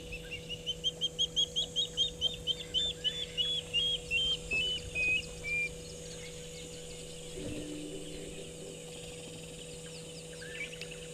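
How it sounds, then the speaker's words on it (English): Birds chirp in a rapid series of bright, repeated calls during the first half, then fade, leaving a quiet outdoor background with a steady low hum. "Yes, you tell those birds to stop being annoying."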